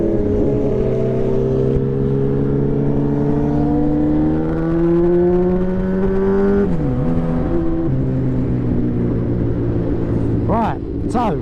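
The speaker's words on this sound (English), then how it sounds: "God, the noise of these bikes." A custom Honda Fireblade-based motorcycle engine runs close by with a loud, steady droning hum, its pitch climbing gradually and then dipping and shifting as the revs change.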